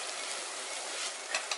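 Pounded spice masala stir-fries in a pan on a low flame, giving a soft, steady sizzle with faint stirring scrapes near the end, quiet and close.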